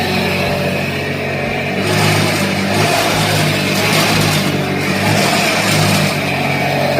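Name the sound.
small engine revving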